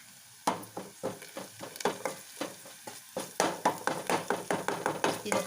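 Turmeric and ginger-garlic paste fry in a pan, with rhythmic, close scraping strokes of a spoon over a soft sizzle, quiet at first and then repeating steadily.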